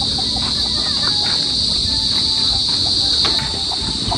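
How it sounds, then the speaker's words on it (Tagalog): Chickens and chicks being fed at a fishpond farm, with faint scattered clucks over a steady loud insect and cricket drone that runs throughout. "Si Bal po dito ay nagpapakain na po ng mga manok."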